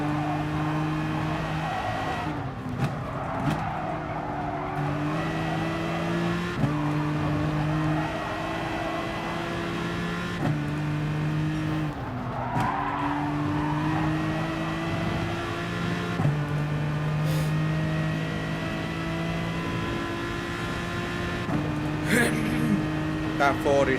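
A Ford race car engine in the GT Sport racing game screams through gear changes, its pitch climbing and then dropping at each shift in a steady repeating pattern, loud and continuous, with someone talking over it.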